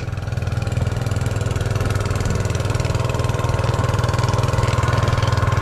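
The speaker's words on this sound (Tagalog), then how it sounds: "Ito yung makina ni Capredi." A watering pump's engine idles with a loud, steady, close putter, running evenly throughout without any voices.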